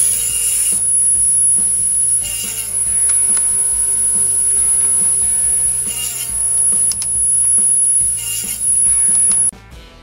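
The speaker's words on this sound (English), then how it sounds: "I'll use my radial arm saw to cut them to a rough length" A radial arm saw crosscuts wooden boards to rough length against a clamped fence stop, a loud, steady motor whine swelling into several cuts in a row, with no talk.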